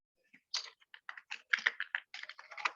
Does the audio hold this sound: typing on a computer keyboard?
yes